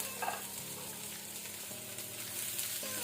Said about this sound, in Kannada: ಆನಂತರ ಇಲ್ಲಿ ತೆಗೆದಿಟ್ಟ ಮಸಾಲೆಯನ್ನು ಫ್ರೈ ಮಾಡ್ಕೊಳ್ಳೋಣ.